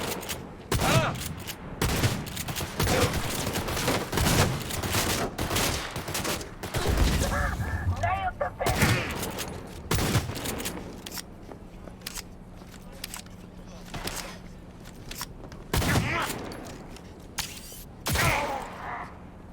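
Heavy gunfire from the video game Cyberpunk 2077 crackles in dense bursts and single shots throughout, loud and close, with game voices shouting over the firefight.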